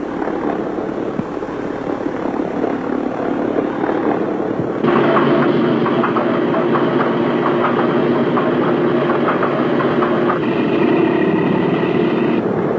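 A B-17 bomber's heavy piston engine cranks and catches, then roars into a loud, steady rattling drone that holds and shifts slightly in pitch.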